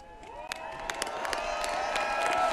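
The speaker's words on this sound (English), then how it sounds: "And appreciation from the crowd." Outdoor crowd on a capitol lawn at a governor's inauguration claps and cheers, scattered sharp claps building into a sustained roar heard from a distance.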